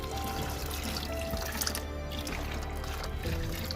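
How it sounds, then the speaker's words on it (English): Hot water pours steadily for several seconds into jars, a continuous splashing gush filling a container, with faint clinks and shifts in the flow. "I'm going to get some hot water and I'm going to pour that in."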